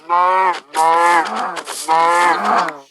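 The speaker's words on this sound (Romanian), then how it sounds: "Bat vaca să mănânc carnea asta." Minecraft cow mooing three times in a row, each a loud, drawn-out moo with short gaps between, alone with no talk over it.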